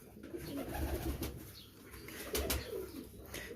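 Soft, rolling pigeon coos murmur continuously at moderate distance, with faint wing flutters and rustling mixed in and no voices.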